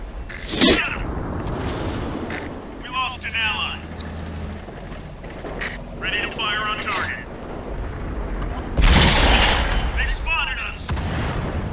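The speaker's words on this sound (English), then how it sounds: "I can hear all the machine gun fire going off." Machine gun fire in the tank battle game World of Tanks comes as bursts and sharp bangs, including a loud blast near the end, with someone talking over the game throughout.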